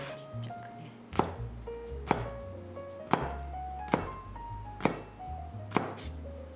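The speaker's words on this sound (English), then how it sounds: "trim off the top and chop into small bite-sized pieces" A knife chops cooled green beans into bite-sized pieces for a vegetarian bento lunch, about six sharp, evenly spaced thunks roughly a second apart on a cutting board, close and clear over soft background music.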